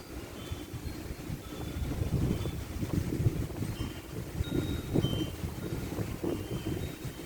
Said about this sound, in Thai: ลมกันโชกแรง